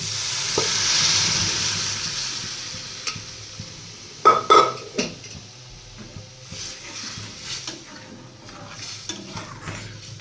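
Boiled masoor dal is stirred and fried in a pan, a soft hiss under close scraping and clattering strokes of a spoon against metal, with a burst of knocks in the middle.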